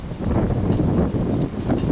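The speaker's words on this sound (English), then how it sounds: "Windy as fuck, man." Steady wind buffets the microphone with a continuous low rumble and gusty roar, close and loud, with no voices.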